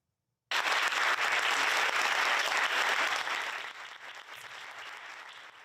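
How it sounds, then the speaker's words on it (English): Applause at a school board meeting honoring the transportation department bursts in abruptly after a brief silence, loud and steady, then thins and softens over the last couple of seconds. "Big applause there"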